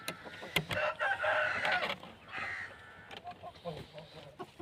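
An Aseel rooster of the Khatri breed crows nearby on a farm among goats and other fowl, a loud drawn-out call followed by softer clucks and clatter, with someone talking faintly underneath.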